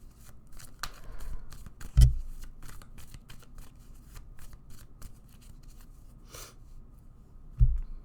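Tarot cards shuffled by hand during a reading, a steady papery riffle with a couple of sharper taps and knocks, close and clear, with no talking.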